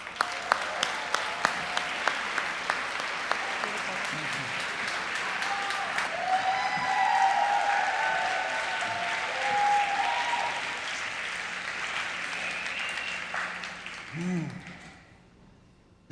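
Audience applause welcoming yoga master Sri Dharma Mittra, a steady broad clapping from a seated crowd that swells mid-way and gradually fades out toward the end, with faint voices underneath.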